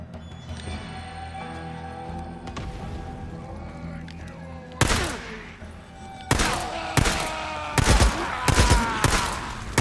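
Enemy gunfire in the Days Gone video game: a busy fight with bursts of rapid shots, quieter at first, then loud volleys cracking in clusters toward the end, over a low rumbling game score.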